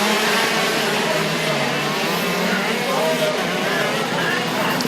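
KZ2 racing karts from a WSK Super Master Series final, a steady high-pitched engine whine holding level throughout under continuous commentary.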